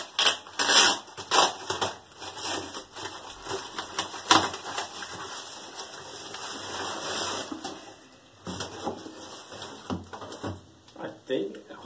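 A taped-up package is ripped open by hand, with crackling tape and paper tearing in bursts and rustling between them, close and fairly loud, while a person talks over parts of it.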